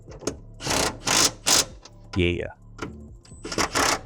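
Nylock nuts are driven onto MCS coilovers on a Toyota GR86 / Subaru BRZ with a power tool, giving several loud close bursts of whirring and rattling with pauses between and a brief voice in the middle.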